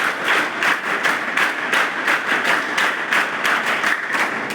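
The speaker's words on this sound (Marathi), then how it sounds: "त्यांच्यासाठी टाळ्या वाजवा" Students and guests at a Gadchiroli school gathering clap together in a steady, slightly rhythmic burst of applause, dense and loud from nearby, with no speech.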